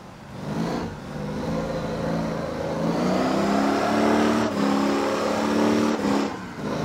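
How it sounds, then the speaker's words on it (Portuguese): Pickup truck engine in the Motor Town driving game, revving hard and holding high while the truck drifts on a delivery run, a loud continuous drone with rising and wavering pitch and brief dips throughout. "Fazendo entregas no drift e o motor tá se ferrando"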